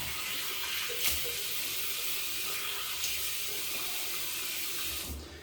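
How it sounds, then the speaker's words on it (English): A kitchen or bathroom tap runs in a steady, close, even stream while the face is wetted before a shave, with a few soft splashes and the flow easing off at the end. "Wet the face."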